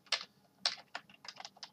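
Computer keyboard keys clicking in quick irregular bursts, a handful of crisp close taps during work in a design application, with no voices.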